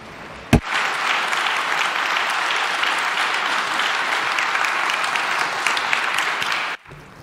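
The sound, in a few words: audience applause for the conference panel participants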